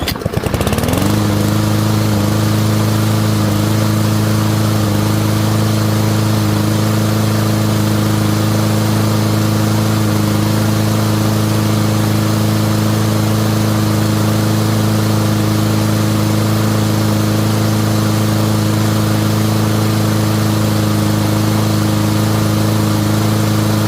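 A Craftsman M105 lawn mower engine that has just been restarted runs at a steady, loud idle. It drones evenly and close by for the whole stretch, with no talking.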